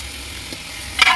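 Cooked beef tumbles into masala frying in oil, a short quiet sizzle followed by a brief louder burst of hissing and scraping near the end.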